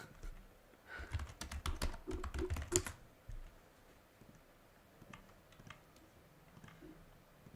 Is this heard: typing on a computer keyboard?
yes